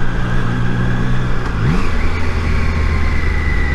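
Triumph Tiger Sport 660 motorcycle engine, close and loud, holding a steady hum that sweeps up in a brief rev before settling back into a sustained drone with no voices.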